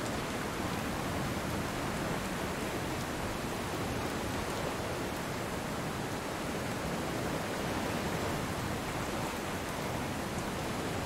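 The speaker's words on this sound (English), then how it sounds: "can you hear the rain and the thunder?" Steady rain in the DCS World flight simulator, a dense unbroken hiss of downpour holding at constant loudness throughout, with no distinct thunder claps standing out.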